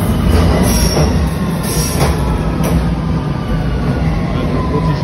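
A London Underground metro train at Westminster station, heard as a loud, steady rumble with rhythmic wheel clatter and a faint high squeal, filling the platform throughout.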